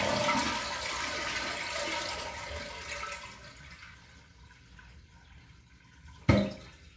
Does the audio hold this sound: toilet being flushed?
yes